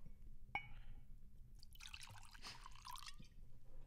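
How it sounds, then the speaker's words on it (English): Beer dumping out of a glass onto a table: a faint clink and then a brief splashing, trickling pour, quiet and close with low background noise. "put the mic up next to it so it gets the glass sound when it dumps out"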